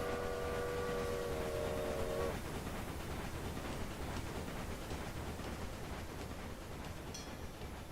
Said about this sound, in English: We need to let that train pass first.